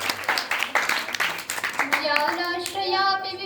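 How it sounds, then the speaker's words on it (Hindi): An audience at a Sanskrit verse recitation competition claps in welcome, a brisk burst of hands for about two seconds, then a young voice begins chanting over the last scattered claps. "बहुत बहुत स्वागत करिए आप लोग, ताली बजा के"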